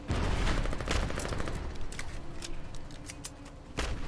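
Rapid gunfire fills the opening seconds as players shoot at a tank in the war game Foxhole, then continues more sparsely with sharp bursts and clicks over a steady low rumble, ending in another loud volley.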